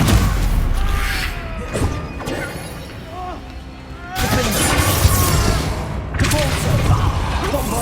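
Bombarda and Confringo spell blasts in the Hogwarts Legacy video game, loud booming and crashing bursts that break off and return after a quieter gap, with a voice shouting spell names.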